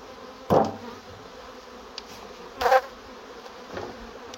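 Honeybees near a hive being transferred from a strong colony's deteriorated wooden box, a faint constant hum broken by two close, loud buzzing passes and a softer third one, with no talking.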